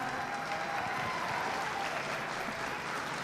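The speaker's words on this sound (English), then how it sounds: "Let's go ahead and give them all a big round of applause." Sustained applause from spectators at a beef steer showmanship livestock show, a steady dense wash of clapping heard at moderate distance with no talk over it.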